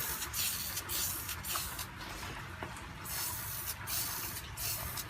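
Spray paint hissing from an aerosol can onto an old thermos being restored, a loud continuous spray broken by short pauses in a steady rhythm of bursts, close by with no talk.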